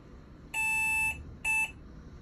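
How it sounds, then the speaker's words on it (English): A mobile phone in a cruise ship cabin gives two loud electronic beeps, one longer tone and then a shorter one, clear and steady against a quiet room. "Okay, that was my phone."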